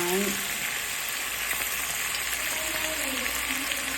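Pork and pre-boiled bamboo shoots stir-frying in a hot pan, a steady loud sizzle running throughout with occasional stirring scrapes.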